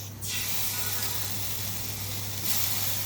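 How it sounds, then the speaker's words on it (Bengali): Chopped garlic and onion fry in butter in a pan, giving a loud, continuous sizzle that starts abruptly and stays steady before briefly brightening near the end. No one speaks. "এখন রসুন আর পেঁয়াজটাকে ভেজে নিতে হবে।"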